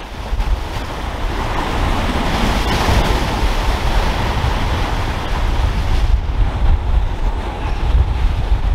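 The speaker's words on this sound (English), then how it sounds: "the wind's picked up. And as you can see, the spray keeps coming up" Strong wind and surf pound the shore at high tide at Southsea, a steady loud roar of breaking waves and spray with heavy wind buffeting the microphone throughout.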